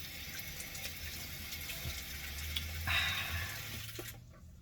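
Water running steadily from a swivel sink faucet attachment in a bathroom, a continuous close hiss that swells briefly as the flow changes, then cuts off at the end.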